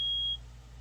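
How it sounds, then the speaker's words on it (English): A single steady electronic beep from a power inverter charging from a generator at a campground, sounding clearly for about a third of a second over a low hum, then stopping. "That's what that beep on my inverter back there is."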